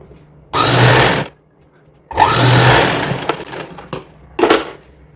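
A sewing machine stitches a fold on a girl's designer dress in bursts: two loud, close runs of about a second each, followed by shorter stitching spurts and a few sharp knocks.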